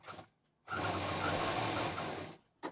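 A sewing machine runs steadily for about two seconds stitching fabric along a line for a patchwork bag, close and even in tone, between brief quiet pauses.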